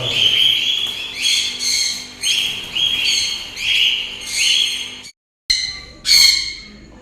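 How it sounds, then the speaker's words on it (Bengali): Pet birds squawk in their new home, harsh repeated calls in rhythmic bursts, close and loud, with a brief silent gap before a final outburst. "নতুন ঘরে পাখি সব নিয়ে চলে এসেছি"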